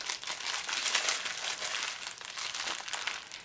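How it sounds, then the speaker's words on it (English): Crinkly plastic packaging being torn and ripped open up close, a continuous rustling crackle with a few sharper bursts. "I don't have scissors, so I'm gonna just rip it open"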